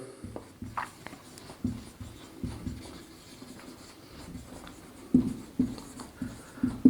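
Hand writing on paper during a class 7 maths lesson: soft, irregular scratching and tapping strokes, close and fairly quiet, continuing steadily throughout with no voices.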